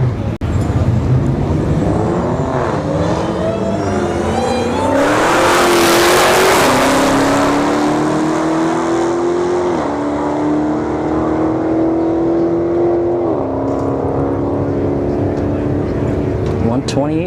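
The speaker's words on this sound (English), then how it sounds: "This Challenger right here doesn't have Hellcat badges, but it does run Hellcat numbers." A Dodge Challenger making a drag racing run at Bradenton Motorsports Park roars loudly, its engine climbing through rising revs with gear shifts, then fading as the car pulls away down the strip.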